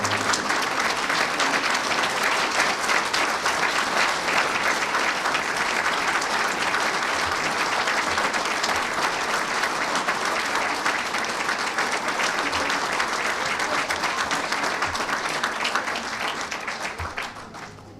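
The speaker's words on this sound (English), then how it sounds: "Can we have a round of applause for these veterans?" A large audience applauds Vietnam veterans at an honoring ceremony, dense sustained clapping filling the whole stretch at steady loudness before tapering off at the very end.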